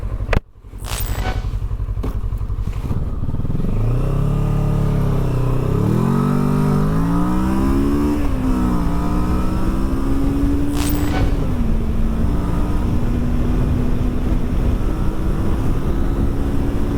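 A 2023 Kawasaki Versys 650 motorcycle in A2 trim accelerates hard from low speed. Its engine note climbs through several rising gear pulls, loud and close, with no talking.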